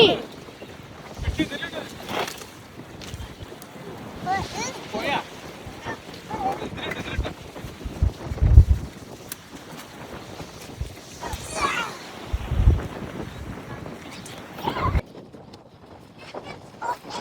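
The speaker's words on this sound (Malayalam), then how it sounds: "കാറ്റ് ഭയങ്കര കാറ്റ്" Strong sea wind buffeting the microphone aboard a small fishing boat, rumbling gusts that swell and drop, with a few heavy thumps and someone talking between them.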